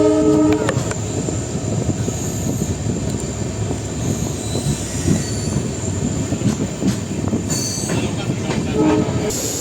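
A train pulls away on the newly opened Mayiladuthurai to Karaikudi line, its horn sounding at the start and wheels rumbling and squealing steadily along the rails, loud and close, with a second horn blast near the end.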